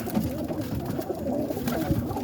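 Low, throaty cooing from a roller pigeon, continuous and fairly close, over a constant background hum.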